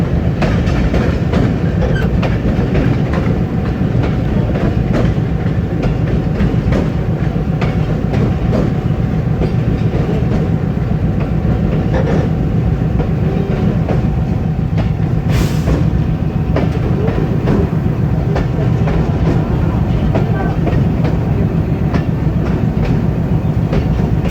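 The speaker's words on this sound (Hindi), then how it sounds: "हम इंतज़ार करेंगे जी सिस्टर ट्रेन का" A train rolls steadily along the rails between Jhelum and Wazirabad, a loud continuous rumble with rhythmic clickety-clack from the wheels running throughout, heard up close from on board.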